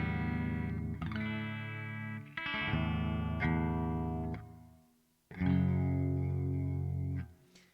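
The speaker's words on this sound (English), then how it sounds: "So firstly, we'll show off the clean tone." Clean-toned electric guitar on a Bear Guitars Wing prototype, heard alone in three sustained strummed chords that ring with effects, with a brief drop to near silence between the second and third.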